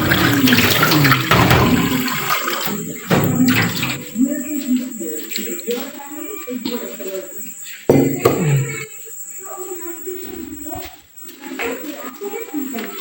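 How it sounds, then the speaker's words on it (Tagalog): Water runs from a tap while a coffee cup is washed at a sink, a loud steady splashing stream with clinks and breaks, and someone talking over it throughout. "Nagkape ako kanina, kaya hugasan ko."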